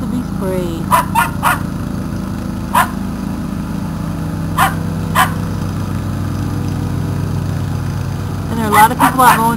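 A dog gives a few sharp barks in short clusters while being sprayed with water from a hose in a yard during pool season, heard over a steady hiss of running water and background engine hum.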